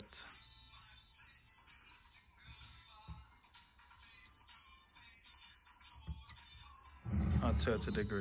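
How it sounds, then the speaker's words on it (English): A CDI timing buzzer on a Saito twin-cylinder engine gives a steady high electronic tone that sounds alone for about two seconds, cuts out briefly, then resumes and holds, with a voice and some handling noise joining near the end. "you go past the sensor bracket which holds the sensor, and the buzzer goes off"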